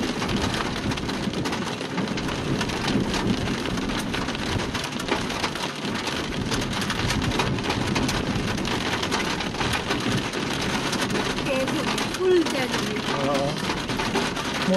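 Heavy rain with big drops pours down outdoors on a trip to Taobat, a loud, dense and unbroken hiss of drops hitting surfaces close by, steady throughout with a faint low rumble underneath.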